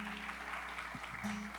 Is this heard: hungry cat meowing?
no